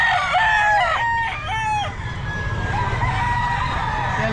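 Kelso hatch gamefowl roosters crow loudly and close at a busy pet market, several overlapping crows in quick succession over a constant background din of other birds.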